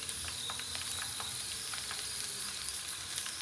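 Onion and ginger fry in a pan for a restaurant-style butter chicken, giving a continuous close hiss and sizzle with faint crackles throughout.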